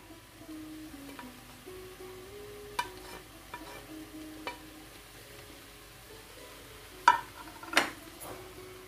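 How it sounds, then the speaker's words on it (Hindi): Tomatoes are added to a pan while tuna fish is cooked, giving a faint, quiet sizzle with occasional stirring scrapes and a couple of sharper utensil clinks near the end. "अब मैं इसमें टमाटर ऐड कर रही हूँ।"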